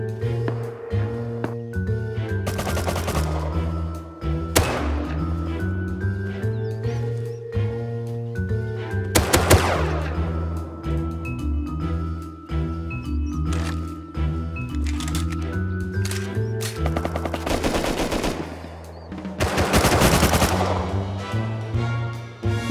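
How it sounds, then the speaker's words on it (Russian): Gunshots hit a door in the survival video game Rust. They come as several sharp, noisy bursts spaced through the stretch, over steady tonal background music. "Звуки выстрелов по моей дверке!"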